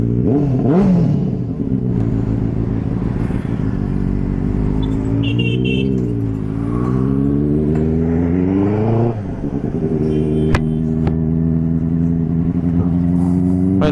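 A Benelli TRK touring motorcycle's engine drones loudly and continuously while riding on the road, its pitch rising and falling as the rider speeds up and eases off.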